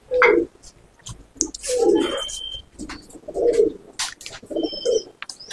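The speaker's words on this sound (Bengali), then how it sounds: "এই আরেক জোড়া পায়রা দেখুন" Gerebaj pigeons, a male among a pair, coo close by in a few low, throaty bursts separated by short pauses, with faint higher chirps and light rustling between them.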